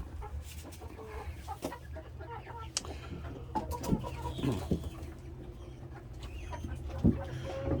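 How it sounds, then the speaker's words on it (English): Chickens and a black rooster in a pen on a rainy day cluck and squawk in irregular bursts, near and moderately loud, over a constant low background rumble. "he's a rooster too, I'm pretty sure"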